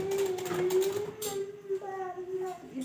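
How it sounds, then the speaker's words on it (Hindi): A sewing machine stitching fabric for a Rabari sadlo hums with a steady motor whine and light mechanical clatter, fairly quiet, with someone speaking softly in between. "सिलाई करके बता देती हूँ आपको किस तरह से मुझे सिलाई लेनी है"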